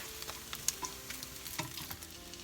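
Chicken breast frying in a pan over lowered heat, a faint steady sizzle broken by a few light clicks and stirring scrapes, close up with no voices.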